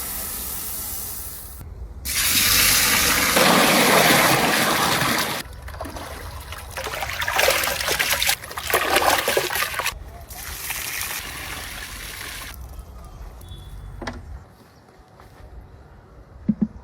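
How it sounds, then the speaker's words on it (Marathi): Toor dal is washed with clean water, with a rush of pouring and splashing water, then rubbing and swishing of lentils in bursts, fading to quieter trickles and a few light knocks near the end, with some speech present. "डाळ घेतलेली तुरीची, आपण आता ती स्वच्छ पाण्याने धुवून घेऊ."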